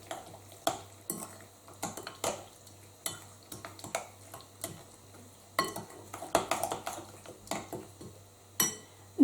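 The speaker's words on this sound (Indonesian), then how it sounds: "Kita aduk hingga tercampur rata." A spoon stirs sugar and water into a cassava dessert mixture in a bowl, giving irregular close clinks and scrapes of metal on the dish, fairly quiet, with no voices.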